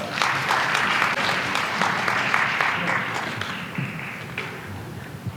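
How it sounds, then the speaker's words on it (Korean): An audience claps to welcome a speaker at a Korean law-firm seminar on real-estate ownership, a broad steady applause that thins slightly toward the end. "큰 박수로 맞아주시기 바랍니다"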